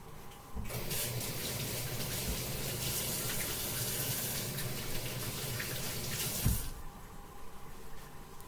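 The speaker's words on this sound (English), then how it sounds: "So let me wash my hands" Kitchen tap turns on and runs in a steady stream into the sink while hands are washed, a continuous splashing rush for several seconds before it shuts off abruptly.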